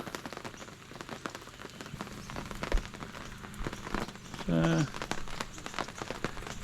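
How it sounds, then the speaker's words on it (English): Steady rain patters on a surface, a constant wet hiss with a brief tonal squeal partway through. "raining, hasn't stopped raining."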